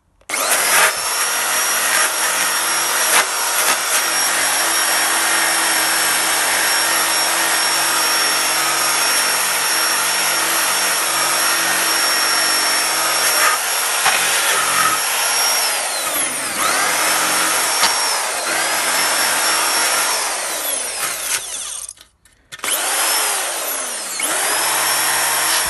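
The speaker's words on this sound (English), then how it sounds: "I thought I'd try your drill polishing techniques" A power drill runs steadily and loudly with a high whine, polishing a plastic vacuum cleaner casing, briefly cutting out near the end before starting again.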